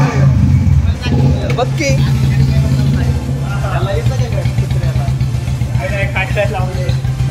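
A Royal Enfield Bullet motorcycle engine starts up and settles into a steady, loud thumping idle, with people talking continuously over it.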